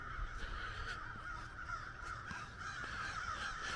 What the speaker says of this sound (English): The crows are very vocal this morning.